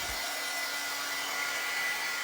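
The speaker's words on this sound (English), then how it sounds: "So let's just hit it with the dryer." A hair dryer blows continuously on a handmade winter craft project, a steady close whooshing hum with no pauses or talking.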